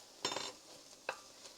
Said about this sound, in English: now we're going to get in our chopped garlic